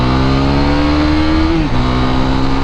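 A Husqvarna Svartpilen 401 motorcycle engine pulls hard and loud at a steady high pitch, drops briefly as it shifts gear, then carries on droning with no talk over it.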